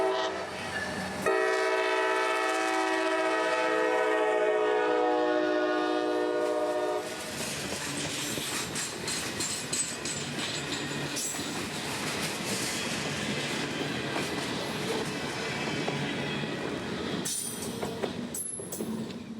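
CSX freight train 783 passing on the Brooksville Subdivision near Big Bend, Florida, in the early morning: a long sustained horn blast, then the loud rumble and clatter of cars rolling by close up, with faint wheel squeal.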